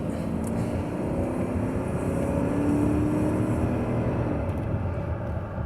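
A 2019 Chevy Tahoe, a repairable salvage vehicle, accelerates hard toward highway speed, giving a steady loud roar of engine and road noise that holds without a break.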